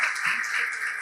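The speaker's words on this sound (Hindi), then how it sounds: "अच्छा लगा हो तो तालियों से बताइए कि कैसा लगा आपको।" Audience applause at an astrology conclave in Delhi, a short steady wash of clapping that fills the whole moment at moderate loudness.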